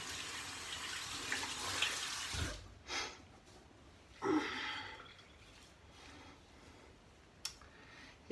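Tap water running into a sink to rinse shaving soap, a steady moderate splashing stream with brief louder bursts and small knocks, close by and without talk.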